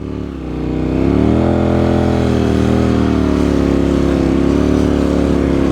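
A motorcycle on Motoz Tractionator Adventure tyres pulls away on beach sand. The engine drones loud and close with a steady low hum, rising briefly as it gets going in second gear.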